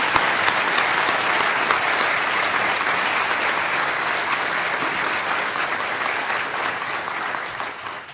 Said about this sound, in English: Can we have a small round of applause for them?